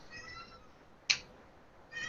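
A cat gives a single short, faint meow in a quiet room, with a softer second call starting at the very end and no talk.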